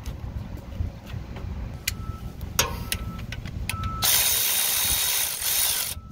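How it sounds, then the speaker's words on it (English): A ratchet wrench turns bolts during an alternator replacement on a large forklift, its rapid pawl clicking running in close, loud bursts before a sustained harsher hiss of continuous ratcheting near the end. "don't forget to flip the ratchet the right way"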